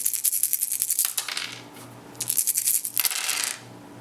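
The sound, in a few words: rolling many dice, Age of Mythology board game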